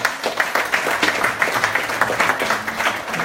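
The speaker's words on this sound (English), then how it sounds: "let's give a clap offering to Karan" An audience at a church Christmas service claps together, a dense, even burst of applause sustained for a few seconds.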